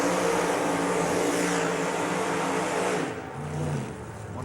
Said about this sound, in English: It's burnout time.